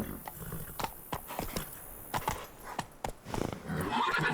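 Roach, a horse in The Witcher 3, gallops with quick, sharp hoof clops spaced fairly evenly. A short neighing snort comes in near the end, all fairly faint.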